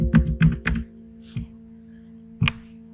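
A few keys are pressed on a computer keyboard connected to an Arduino, three quick close clicks and then two single taps, over a steady low electrical hum with no talk.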